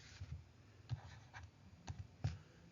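Marker strokes on a board while writing line segment endpoints in a math lesson, a few short faint squeaks and taps spaced apart, no talk.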